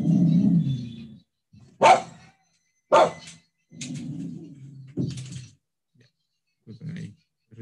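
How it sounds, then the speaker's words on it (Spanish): During a statistics class, a small dog lets out a few sharp, clipped barks spaced about a second apart, mixed in with someone talking. "perrito siempre molesta"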